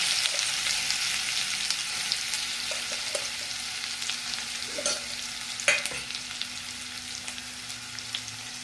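Cumin seeds and chillies sizzling in hot oil as the base for a Maharashtrian cabbage dish, a steady bright crackle with occasional spatter pops and stirring, close and alone.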